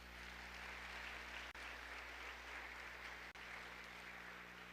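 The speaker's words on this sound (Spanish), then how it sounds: "¿Le puede dar un fuerte aplauso a Dios?" Steady applause from a church congregation during a sermon, a dense, even wash of clapping that holds at a constant level with a continuous low hum underneath and no voices.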